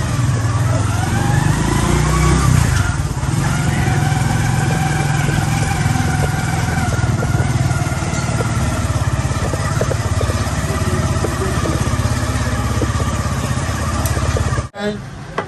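A petrol motorcycle engine runs steadily for the whole stretch, its low throb loud and close, with a brief dip near the end.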